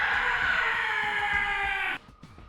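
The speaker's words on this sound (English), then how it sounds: "hear that lovely eagle screech" A long, steady eagle screech from Assassin's Creed, loud and unbroken for about two seconds before cutting off abruptly into quiet game ambience.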